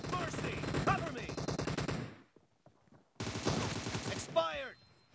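Rapid automatic gunfire in a PUBG Mobile team deathmatch arena, loud bursts of repeated shots, then a brief lull before another burst, with game voice callouts over the end.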